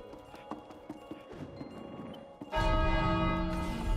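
A bell rings out loudly in the video game It Takes Two, a sudden bright sustained chime that rises over earlier light tapping footsteps and holds to the end.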